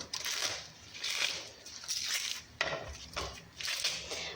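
A knife finely slices collard greens in several crisp, crunchy strokes, close by, with short pauses between cuts.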